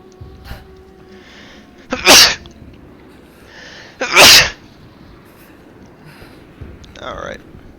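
Two loud, sharp sneezes about two seconds apart, close to the microphone, with soft speech-like sounds and faint game audio around them while someone plays Rise of the Tomb Raider.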